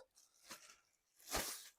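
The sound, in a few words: plastic packaging bags being handled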